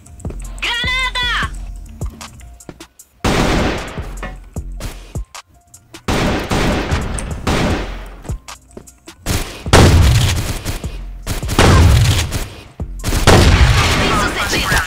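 Grenade blast and bursts of gunfire in the online shooter CrossFire, loud booms and rapid shots recurring in several heavy clusters, with a voice shouting briefly near the start.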